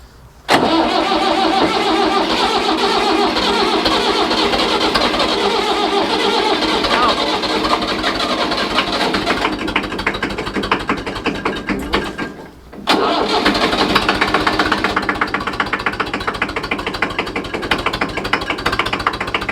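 A tractor engine turning over and catching while in gear, a loud continuous running roar that dips and stalls briefly near the end before picking up again, close by.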